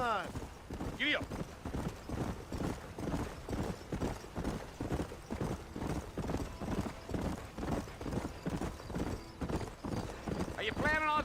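Horse hooves clip-clop steadily at a trotting rhythm in the Western video game Red Dead Redemption, with a brief whinny near the start and end, under ongoing conversation between riders.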